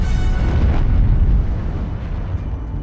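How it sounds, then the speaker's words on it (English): Massive explosion of the British battlecruiser Hood after a German salvo, a loud sustained deep roar and rumble that fills the whole span and slowly eases off, with no voices. "an enormous explosion broke Hood in two parts"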